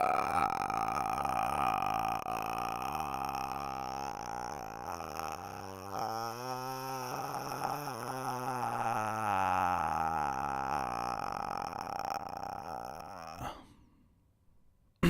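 A voice imitates the creepy, drawn-out croaking rattle of the ghost from The Grudge, a long gurgling throat sound sustained for many seconds before cutting off abruptly.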